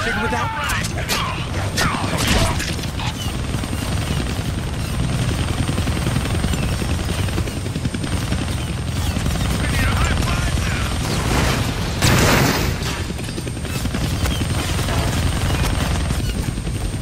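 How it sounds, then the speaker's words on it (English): An attack helicopter in a Deadpool video game drones continuously with heavy rotor thrum and bursts of gunfire and explosions, while someone talks over the racket throughout. "I can't kill that chopper with my guns"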